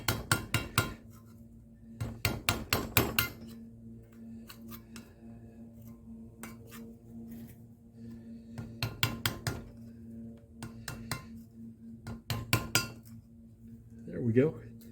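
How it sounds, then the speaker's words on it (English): Old gasket scraped off an engine cylinder head with a metal tool, clusters of quick sharp scraping and clicking strokes separated by pauses over a steady low hum, close and fairly faint. "So you can see I just got most of that gasket off."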